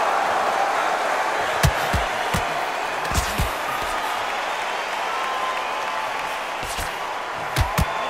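In the Undisputed boxing video game, an arena crowd for Sugar Ray Robinson vs Terence Crawford gives off a continuous cheering roar. Sharp punch-like thuds cut through it now and then.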